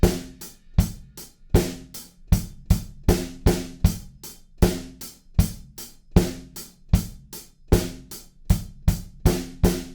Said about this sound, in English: So at first we're just adding some hi-hats over the top to that pattern